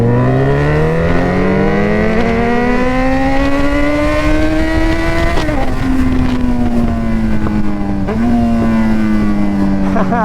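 A Yamaha motorbike on a London ride, its engine droning loud and close with a steady pitch that climbs as it revs, dips at gear changes and climbs again, under constant wind rush.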